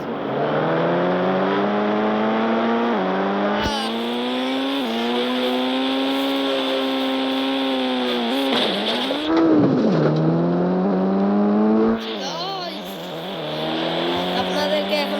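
A Toyota Supra sports car driven in a video game, its engine droning steadily with rising and falling pitch through gear changes, loud and close, with brief tire-squeal bursts and no talk.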